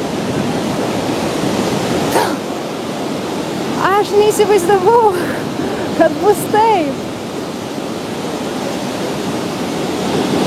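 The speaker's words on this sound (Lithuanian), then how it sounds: "Va, jisai krenta žemyn tas krioklys." Niagara Falls roars as a loud, steady wall of rushing water throughout, with a person speaking briefly in the middle over the constant thunder.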